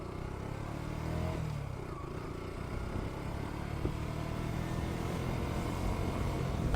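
A motorcycle engine drones steadily while riding, with constant wind and road rumble and no distinct revving, fairly loud throughout.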